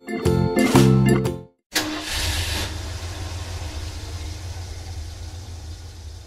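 An electric car gives a steady, moderately loud hum with a faint low drone, running alone for several seconds after a short burst of melodic voice or music.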